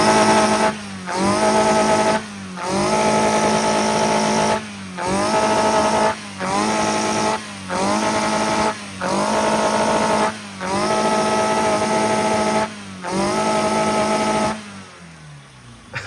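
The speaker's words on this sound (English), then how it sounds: "on this episode we'll be starting the engine and tuning it" A loud VR6 car engine revs hard again and again during tuning, each burst of throttle held for a second or two before briefly dropping off, close and raw.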